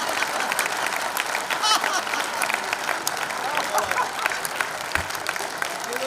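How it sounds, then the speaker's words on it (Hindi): A large concert crowd applauds with continuous, dense clapping at a steady level, while a voice talks over it. "जो भारत माता से प्यार करता है वो ताली बजाए"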